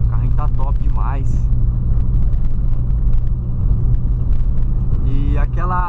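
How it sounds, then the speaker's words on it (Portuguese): A modified VW Polo car engine idles with a deep, steady rumble throughout, sitting beneath people talking. "Hoje a gente tá trazendo pra realidade aí meu carro totalmente modificado aí, estilo Need for Speed"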